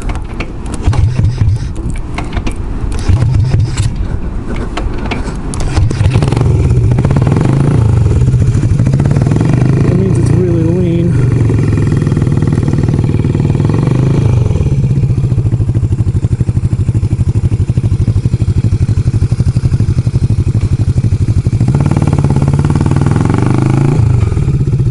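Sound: motorcycle engine running and bogging

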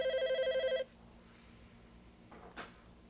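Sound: telephone ringing

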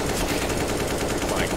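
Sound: gunfire from a MAG-7 shotgun in a video game

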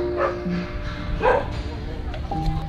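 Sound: stray dog barking in Thailand

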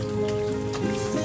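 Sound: rain falling

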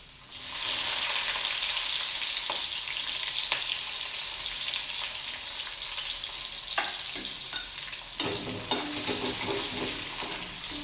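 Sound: garlic and green chili frying with cumin in pan

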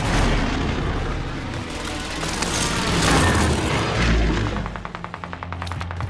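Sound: airstrike explosions in Call of Duty video game

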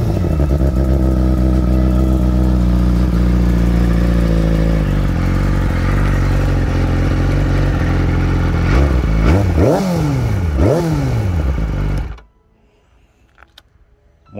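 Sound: Yamaha R6 motorcycle engine revving

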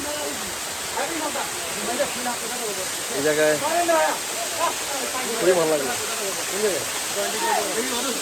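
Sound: waterfall rushing

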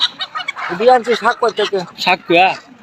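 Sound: chickens clucking at a poultry market

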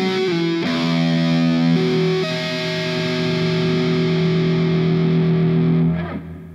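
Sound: electric guitar tapping passage

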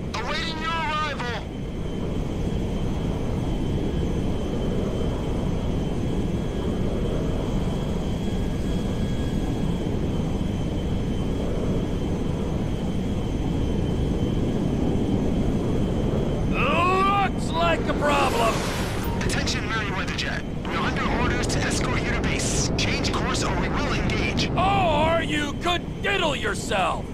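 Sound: cargo jet flying in video game Grand Theft Auto V

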